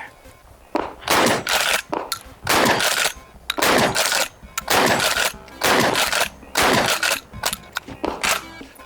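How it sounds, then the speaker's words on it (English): A shotgun fires a rapid string of about ten loud, booming shots outdoors, each blast closely following the last with brief gaps between them. "So I'm pretty happy with this shotgun, and it shoots good too."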